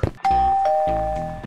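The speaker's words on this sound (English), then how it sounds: "The doorbell rang." Doorbell ringing in a Minecraft video game, a single loud chime tone sustained for about a second after a short thump.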